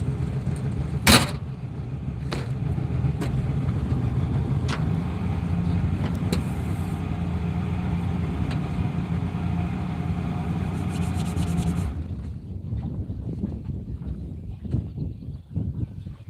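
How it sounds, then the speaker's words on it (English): A steady boat motor drone rumbles throughout on Cheney Reservoir, Kansas, loud and continuous, with occasional knocks and clatters, then cuts off near the end leaving quieter scraping sounds. "Sorry about all that boat noise"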